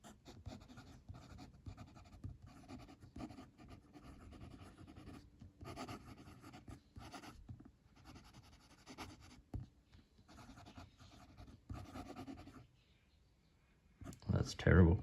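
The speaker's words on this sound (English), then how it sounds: "Let's do a writing sample with this pen." A Benu Astrogem Echo fountain pen writes on paper, giving close, scratchy strokes in short bursts with small clicks and brief pauses, ending in a louder rustle.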